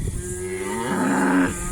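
Cattle low and moo close by on a morning walk out to a meadow, one long drawn-out call swelling and holding steady over a soft outdoor background, with no talking.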